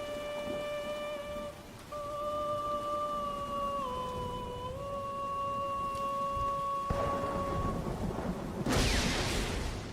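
Rain pours steadily in the video game Resident Evil Zero, with a low rumble of thunder, under a sustained wordless singing voice that holds long notes before a louder burst near the end.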